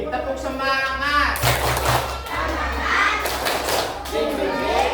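Schoolchildren doing a 'tepuk semangat' clapping chant in a classroom lesson, bursts of rhythmic group clapping and thumps mixed with children's chanting voices, fairly loud and close.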